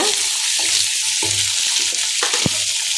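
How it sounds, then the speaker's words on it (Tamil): Chopped onions frying in hot oil for a soya chunks gravy, a steady close sizzle with occasional stirring clicks and scrapes of a spoon against the pan. "இப்போ ஆனியன் வெட்டி வச்சுருக்கோம் இல்லைங்களா, 2 ஆனியன் எடுத்துக்கோங்க. ஆனியன் நல்லா ஃப்ரை ஆகட்டுங்க."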